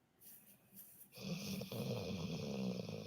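A pit bull named Elvira snores softly and steadily, a quiet breathy rasp that swells in after a near-silent start and continues without pause, close to the listener, with no talking.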